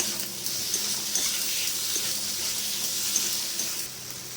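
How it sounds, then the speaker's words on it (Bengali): Fried potatoes sautéed in a pan with ghee and a little kasuri methi, giving a steady, even sizzling hiss throughout with no talk. "এবার দিয়ে দেবো আলুগুলো ভাজা আলু একটু কষিয়ে নেবো আলুগুলো"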